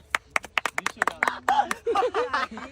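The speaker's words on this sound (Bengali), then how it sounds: "তালি দাও" A small audience claps for the winners of a boys-versus-girls singing contest, with a quick run of sharp, separate claps followed by laughter and talking voices.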